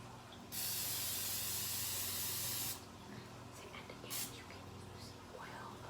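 Cooking spray greasing a pan for a pizookie, one long continuous hissing burst of about two seconds, then a shorter spritz, close and loud, with quiet talk in the background.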